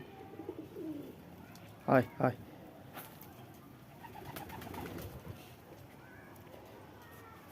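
Wild pigeons come to feed at a new pigeon house, giving soft, faint coos under a person's voice calling to them, close and quiet against a light background hiss.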